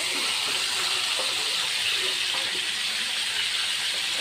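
Pangas fish frying in hot oil, a loud, dense, steady sizzling hiss that runs without a break throughout.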